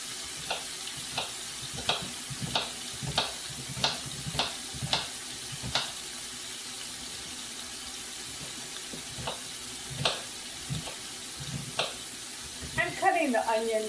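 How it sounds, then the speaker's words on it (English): Mostaccioli pasta being stirred in a pot of boiling water, with a run of light clinking spoon taps against the pot over a steady bubbling hiss, then a brief louder clatter near the end. "you just want to give it a stir because you don't want it sticking together"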